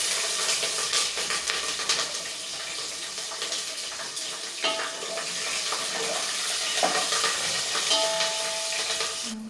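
Green chillies fry in a pan for prawn biryani, making a steady sizzling hiss with scattered stirring scrapes and a brief watery splash near the end. No voices are heard.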